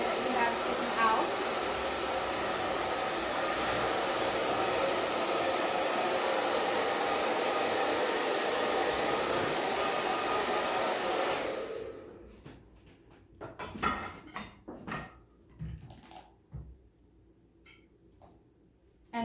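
A hair dryer roars steadily at close range for about twelve seconds while a paddle brush smooths the hair, then cuts off, leaving faint brushing, handling clicks and light rustling.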